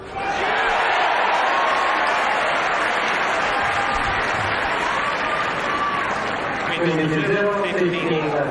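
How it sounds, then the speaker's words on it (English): A large tennis crowd applauds Federer at the end of the Rome final against Nadal, with steady sustained clapping and some cheering filling the stadium, and a commentator talking over it. "And the crowd so appreciative of the effort and the endeavour that Federer has put into this match"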